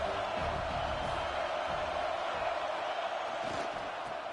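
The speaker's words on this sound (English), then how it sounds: "This crowd ready to make its presence known." Stadium crowd in the NCAA 26 college football video game, a continuous, fairly quiet roar of many voices cheering with no single standout shout, steady from start to finish.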